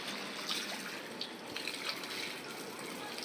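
A tap fills a bucket with water at a home, a soft, steady rushing trickle heard close by for a few seconds, with faint voices in the background.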